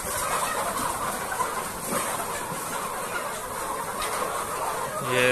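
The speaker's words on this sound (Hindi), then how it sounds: "ये देख सकते हैं आप बहुत सारे मुर्गे ही मुर्गे हैं" Crowd of chickens packed inside a poultry farm shed, a dense, steady clucking din with scattered squawks filling the whole stretch, a slight swell near the end.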